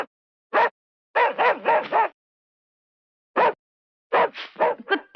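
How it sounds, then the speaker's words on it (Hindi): Dogs bark loudly and close by in several quick bursts of two to four barks, separated by silence. "कुत्ते भौंक रहे हैं, वो जग्गू लंगड़ा होगा।"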